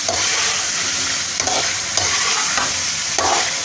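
Kidneys and testicles fry with chopped green chili and tomato in a Lahori takatak dish, making a loud continuous sizzle with regular scraping and stirring strokes from a utensil on the pan, and no voices.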